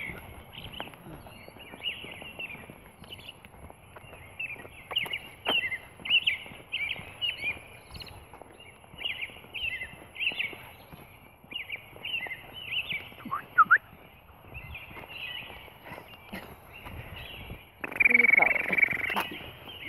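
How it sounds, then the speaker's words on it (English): Sparrows chirp steadily in a dense, continuous chatter throughout, moderately close, with a louder burst of calls near the end and some faint background noise beneath. "Those are all the same birds. All sparrows."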